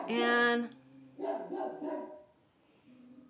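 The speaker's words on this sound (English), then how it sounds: "we'll let him bark while I apply this." A dog barks sharply a few times at close range, followed by quieter yips, with a person's voice briefly speaking.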